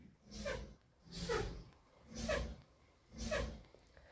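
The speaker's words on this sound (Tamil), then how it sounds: "பிரேக் சவுண்டு கேட்டுக்கோங்க." A bus in a Tamil Nadu private traffic mod for a driving game gives four evenly spaced brake bursts, each a short hissing, whooshing release roughly a second apart, heard alone and fairly quiet.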